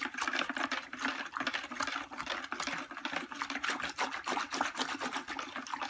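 Salt stirred into a container of fabric dye water for dyeing black Vans Old Skool sneakers, a steady close swishing and sloshing with rapid, rhythmic liquid churning throughout.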